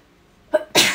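A single short sneeze bursts out near the end, with a small intake just before it, in an otherwise quiet room during card crafting.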